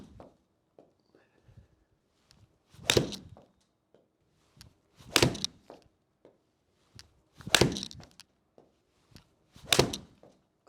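Four solid thwacks of a counterbalanced golf club striking a ball, spaced a couple of seconds apart, close and distinct over a quiet background with faint small knocks in between.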